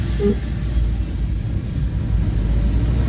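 A car's engine and exhaust run after a weld repair at the exhaust inlet: a steady, loud, close low rumble that holds evenly with no talking.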